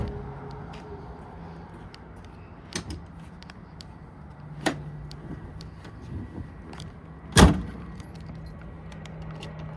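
Car keys for a Rover V8-powered 1974 Triumph TR6 jingle softly and intermittently close by, ending in one sharp, louder metallic clink over a quiet background hum.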